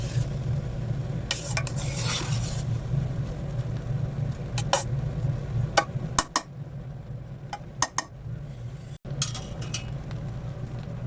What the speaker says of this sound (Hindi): चावलों को आराम से हिलाना है ताकि चावल टूटे नहीं